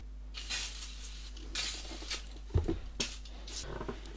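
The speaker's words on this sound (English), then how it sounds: "we'll just give it a light spray of the Worth interior cleaner" Worth interior cleaner is misted onto worn Gucci leather dress boots in a few short, soft hissing bursts spaced apart, fairly close and quiet.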